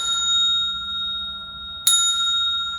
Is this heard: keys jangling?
no